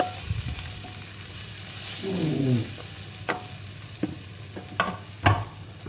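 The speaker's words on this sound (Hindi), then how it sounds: "उसके बाद कढ़ी में शामिल कर देना है ये तड़का।" Cumin tempering hits kadhi with a brief sizzling hiss, followed by a few sharp clinks and taps of a spoon or pan against a quiet background.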